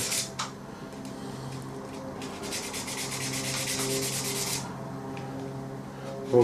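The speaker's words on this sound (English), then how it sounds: "I generally just rub the sander over" A sander rubbed over one face of cheap hobby magnets gives a steady, close scraping hiss, rising in intensity midway and then dropping off, alone without any talk.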